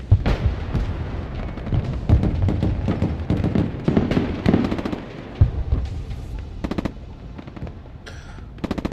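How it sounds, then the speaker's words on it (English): Machine gun fire in the video game Broken Arrow, with rapid bursts of automatic shots and heavier booms of battle around them, loud and dense throughout, thinning into short separate bursts near the end. "The machine gun's starting to work much better."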